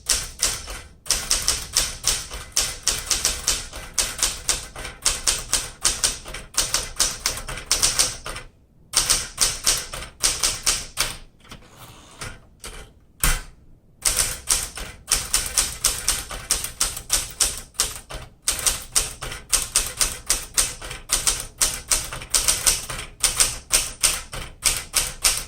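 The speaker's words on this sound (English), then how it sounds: "All right, let's do some typing here." A 1968 Smith Corona Super Sterling manual typewriter clatters with rapid, uneven keystrokes, close and loud, broken by a few short pauses and carriage-return moments.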